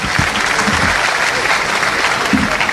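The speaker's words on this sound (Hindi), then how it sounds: "हम जोरदार तालियों के साथ पुनः मध्य प्रदेश के माननीय मुख्यमंत्री जी का धन्यवाद ज्ञापित करते हैं।" Loud, steady applause from an audience at a Madhya Pradesh Police Safe Click 2.0 cyber-safety event, thanking the Chief Minister; dense clapping fills the whole stretch without a break and with no talk.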